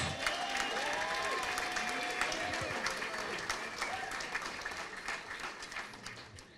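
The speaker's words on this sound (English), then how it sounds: "I think she needs a round of applause." An audience applauds at an all-Ireland one-act drama finals awards event in a hotel, sustained clapping that slowly fades, with a few faint voices underneath.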